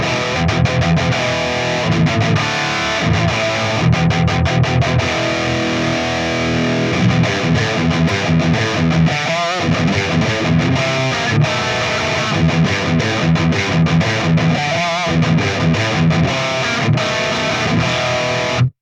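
Heavily distorted electric guitar through an IK Multimedia ToneX amp modeler plays chugging riffs and sustained chords continuously, loud and dense, with no voices.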